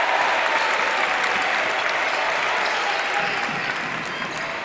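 Home crowd at a high school basketball game bursts into sustained, dense applause and cheering after a layup, loud and continuous throughout.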